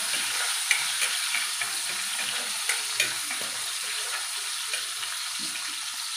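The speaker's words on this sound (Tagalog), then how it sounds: "Tapos, yung ating sibuyas. Gisa." Onion sautéing in a pan for chicken afritada, a steady bright sizzle with soft scrapes and light knocks of stirring, close and continuous with no talking.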